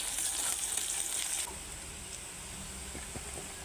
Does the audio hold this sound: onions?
yes